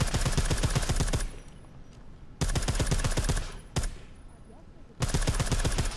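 Armor-piercing gunfire in the video game Deus Ex: Mankind Divided: rapid automatic bursts of sharp shots, four volleys separated by brief gaps with fading echoes, loud and close.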